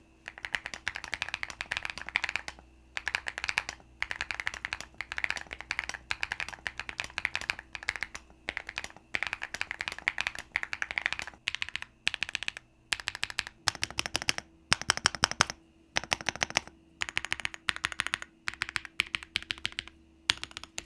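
Typing on a Kiboom Moonshadow V2 mechanical keyboard fitted with matcha latte switches, producing steady bursts of close, crisp keystroke clacks with brief pauses between runs, heard alone with no voices.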